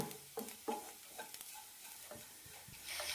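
Grated coconut dry-roasting in a pan, soft crackling sizzle with irregular scraping strokes of a spoon, close and quiet, no voices.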